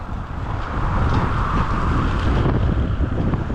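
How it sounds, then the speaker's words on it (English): Strong wind buffets the microphone in a constant loud rumbling roar, gusting steadily throughout with no voices, during an electric skateboard ride. "Very, very windy."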